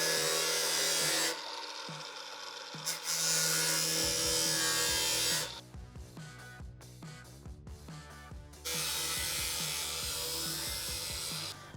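Power sanding along the cut edge of a galvanized steel high-clearance rear bumper, a steady loud abrasive rasp that drops out briefly, returns, gives way to a stretch of choppier grinding and scraping, then resumes steadily.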